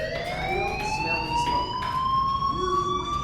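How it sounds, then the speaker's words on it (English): A rising, wailing fire alarm siren from the video game Life Is Strange sounds loud and steady throughout, with no talking over it. "Hey, do you hear that fire alarm? That means you should be outside."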